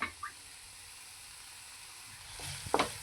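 Masala pav bhaji vegetables sizzle in a pan under a soft, steady frying hiss, with a few light scrapes and a louder clatter of stirring near the end.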